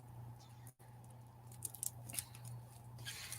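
Scissors are handled at a home crafting desk, producing a few faint, close clicks and snips over a low steady hum, with a brief dropout early on.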